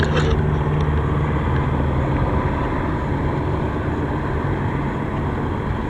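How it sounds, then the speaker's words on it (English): A loud, continuous aircraft rumble with a dense whirring roar that holds steady, like a helicopter passing close overhead, with no speech. "Here comes the helicopter."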